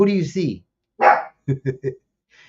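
Small puppies give a sharp bark and then a quick run of three yips close by. A person talks right before the barking, and a brief faint sound trails at the end.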